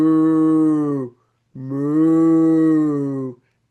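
Human voice imitating cows mooing during a children's farmhouse story, two long, low, sustained moos separated by a short pause, clear and close.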